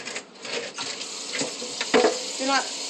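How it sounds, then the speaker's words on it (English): Water pours into the pot of a freshly repotted snake plant, a soft, uneven splashing and trickling that comes in short bursts, close by. "And then I just water it."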